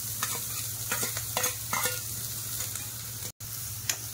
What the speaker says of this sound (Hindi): अब ये तेल गर्म हो गया है, प्याज डाल देती हूँ, प्याज हरी मिर्ची दोनों साथ में।